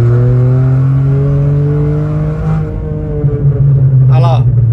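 Engine of a VW Up TSI revved under full throttle, a loud steady drone that rises in pitch and then settles, with a brief higher whine near the end. A voice speaks over it.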